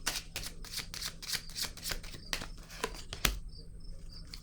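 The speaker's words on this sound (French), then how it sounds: "je vais déposer une carte ici" Cards tapped and laid down on a table during a tarot-style card reading, a string of soft close clicks and flicks in a quiet room.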